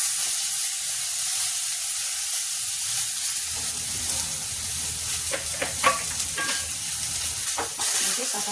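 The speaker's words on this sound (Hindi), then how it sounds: "इसको हल्का से फ्राई कर देंगे तो जिससे इसका थोड़ा सा कच्चापन दूर हो जाएगा।" Pieces of jackfruit and potato lightly frying in a pan give a steady, close hiss and sizzle throughout, with scattered stirring clatters and scrapes toward the end and no talk.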